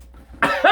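A single short cough in two quick bursts, close and fairly loud, after a brief quiet moment.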